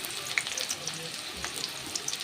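Chopped onions frying in hot oil for a chicken dish with bottle gourd, a continuous close crackling sizzle dotted with small pops and spits, no voices.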